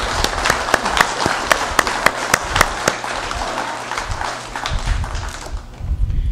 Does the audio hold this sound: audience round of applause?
yes